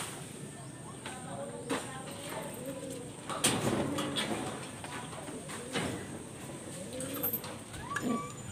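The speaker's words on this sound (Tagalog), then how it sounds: "Yun mga kalapatids, no, dumating na nga yung alaga at si Maximo" Racing pigeons coo softly in a loft, repeated throaty calls spread through the stretch over a light background hiss, with occasional faint knocks.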